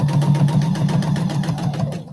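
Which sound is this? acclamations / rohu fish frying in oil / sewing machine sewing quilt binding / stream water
sewing machine sewing quilt binding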